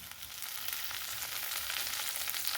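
Chopped tomato frying with ginger and garlic, green chilli and cardamom for katla fish curry, a dense continuous sizzle close by with faint stirring, no speech.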